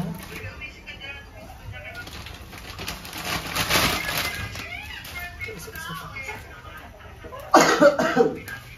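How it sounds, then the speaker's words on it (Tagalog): A person coughing a few times in a home kitchen while pancit bihon cooks, short rough bursts amid faint background clatter and shuffling, with a louder cluster of coughs near the end. "Ayan po, may ubo po."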